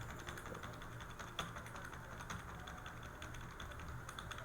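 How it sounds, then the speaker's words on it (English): Quiet, rapid computer keyboard typing while navigating a Microsoft Excel spreadsheet, a faint stream of soft clicks under a steady background hiss. "So you can use your keyboard to move around in Microsoft Excel."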